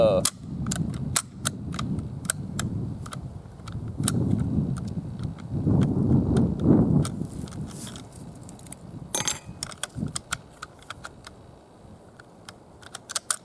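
Shots from a Finnish M27 Mosin Nagant rifle at an outdoor range, 100-yard target, heard as sharp distant cracks scattered among clicks and handling noise, fairly faint and spread over several seconds.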